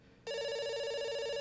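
Telephone ringing in the game Dr. Langeskov, The Tiger, and The Terribly Cursed Emerald: a single bright electronic ring that starts abruptly after a brief quiet moment and holds steady and clear to the end, with no talk.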